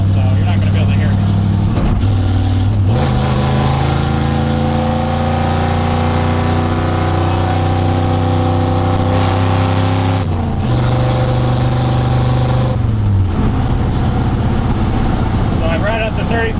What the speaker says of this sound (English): You can see just how loud the truck is just at that RPM